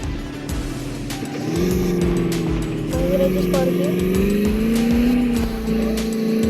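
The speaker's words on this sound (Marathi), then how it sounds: "पहिली आपल्याला गाडी मिळाली आहे ही स्कॉर्पिओ" A Scorpio's engine in the Indian Vehicle Simulator game drones with a steady low hum that climbs in pitch as it accelerates, while a player talks over it.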